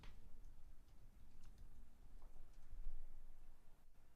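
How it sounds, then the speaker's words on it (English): Soft, quick clicks of typing on a computer keyboard, irregular and fairly close, over a low steady background hum with no talking. "I'm literally just typing these people in so I can just watch."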